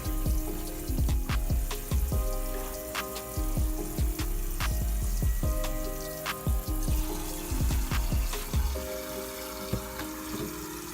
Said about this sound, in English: So while I'm running the water in there